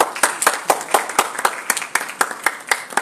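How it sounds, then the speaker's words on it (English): Audience applause at a university concluding ceremony, steady rhythmic hand claps from a crowd, moderately loud and continuous with no talking over it. "Please give a huge round of applause for the dignitaries."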